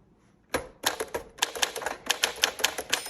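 Keys of a 1952 Smith Corona Silent manual typewriter strike in a quick, uneven burst after a short silence, each clack sharp and close, with no voices.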